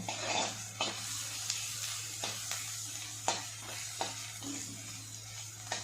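Onions sweat and fry in a pan over a medium-high flame, a soft steady sizzle broken by regular scraping stirs about every half second.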